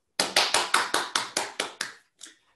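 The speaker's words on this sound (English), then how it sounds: "please join me giving a big clap to Nicholas" Audience clapping for a speaker at a remote conference, eight crisp evenly spaced claps close up, then a short pause and one fainter final clap.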